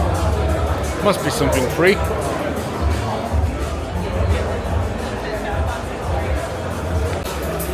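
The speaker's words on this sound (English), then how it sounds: "Big crowd here at Spoon and reasons unknown." Crowd chatter and general hubbub around the Spoon stand at the Japfest JDM car show, a dense outdoor babble of many voices with nearby talk on top.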